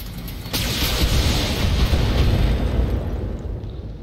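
Weapons fire in the BattleTech mech combat game, a mech loosing two medium lasers and an SRM-6: a loud, dense roar of blasts and explosions erupts after a brief pause and rumbles on steadily, fading slightly at the end.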